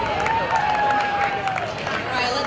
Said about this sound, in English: Big round of applause here for 28 as he comes on through the finish line.